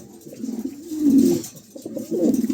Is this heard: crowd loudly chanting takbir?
no